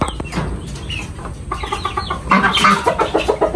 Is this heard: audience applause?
no